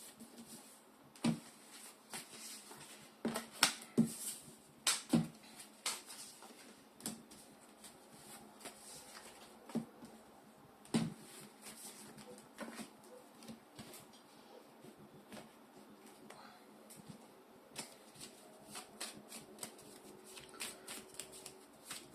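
Tarot cards are shuffled and drawn by hand, giving soft, close papery riffles and sharp flicks in irregular bursts against a quiet room.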